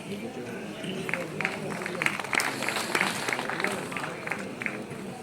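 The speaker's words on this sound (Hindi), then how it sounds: "और तालियों का ये संगीत कम ना हो" Audience applause fills an auditorium at a National Milk Day ceremony honouring farmer entrepreneurs: a steady, dense wash of many hands clapping throughout, with no break in it.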